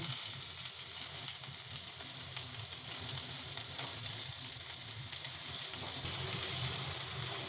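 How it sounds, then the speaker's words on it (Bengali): Potatoes marinated with lemon sizzle and fry steadily in hot oil in a kadai, a dense continuous crackling hiss close up with no pauses, no voices. "এরপর কড়াতে তেল দিয়ে দিলাম তেল গরম হয়ে গেতে আলুগুলো দিয়ে দিলাম"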